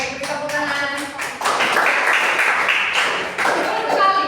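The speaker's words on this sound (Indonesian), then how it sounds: "beri tepuk tangan" Junior high students in a classroom clap their hands together at the teacher's prompt, a moderately loud round of clapping from the group with voices mixed in.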